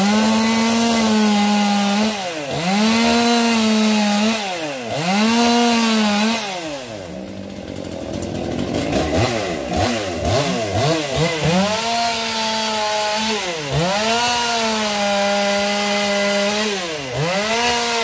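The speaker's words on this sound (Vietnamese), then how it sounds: "Rồi giờ sẽ cưa thử." A Husqvarna 242 42cc chainsaw cuts wood, its loud engine rising and falling through repeated cuts, dipping to a lower idle midway before revving hard again, with no talk.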